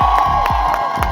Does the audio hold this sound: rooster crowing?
no